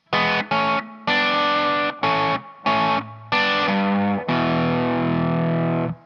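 Distorted electric guitar playing a choppy riff, loud and close, with short stabbed chords giving way to a long ringing final chord.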